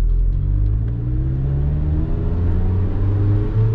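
An NB Mazda Miata engine runs on an untouched standalone ECU base map, lean and low on power, giving a loud, continuous low rumble with a slowly wavering pitch.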